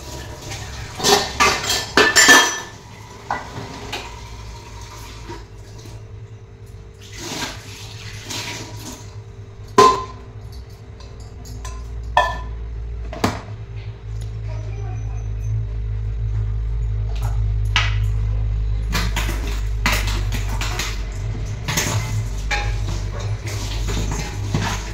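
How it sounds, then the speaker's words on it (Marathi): Dishes get washed in a kitchen sink: scattered clinks of pots, plates and cutlery, then a steady run of water from the tap that continues in the background while more clatter sounds. "चला आता तिकडे भांडी पडली बघा बेसिनमध्ये, तशीच भांडी आवरून घेते आता."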